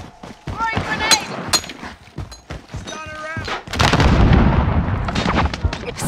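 A grenade goes off in Call of Duty Modern Warfare, a heavy booming blast with rumbling debris following earlier clicks, thuds and game voice chatter.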